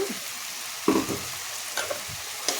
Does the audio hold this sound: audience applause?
no